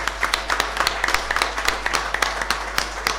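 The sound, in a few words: round of applause for the guest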